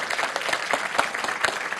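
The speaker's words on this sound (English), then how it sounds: "Big round of applause." A short, fairly quiet burst of applause fills a hall at a community event, with many hands clapping in a continuous patter and no speech over it.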